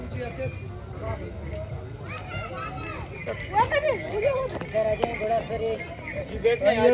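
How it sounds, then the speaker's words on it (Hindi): Horse hooves clip-clop during a horse ride on a hillside outing near Islamabad, with an uneven rhythm under lively adult and children's voices. "ये घोड़ा सवारी।"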